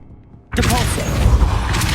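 The Depulso force spell cast in Hogwarts Legacy: after a near-silent half second, a sudden loud whooshing blast bursts in and holds as a dense roaring rush to the end.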